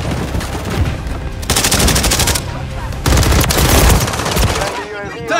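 Dense automatic gunfire rattles in Call of Duty Modern Warfare 3 multiplayer, loud and close in sustained bursts with short gaps between them, and game voice callouts sound beneath the shooting.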